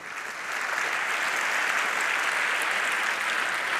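Audience applause at a closing event rises quickly into steady, dense clapping from a large crowd, sustained and even throughout without talk over it.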